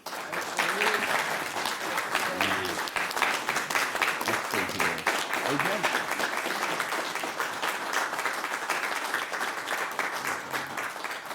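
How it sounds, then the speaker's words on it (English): An audience at a city board workshop applauds students receiving certificates, with steady, fairly close clapping sustained for over ten seconds and a few voices talking underneath. "So can we give them a round of applause?"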